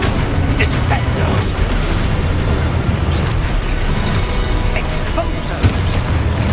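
Descendo spell effect cast in the video game Hogwarts Legacy: a loud, sustained booming rumble with crackling bursts that fills the whole stretch without letting up.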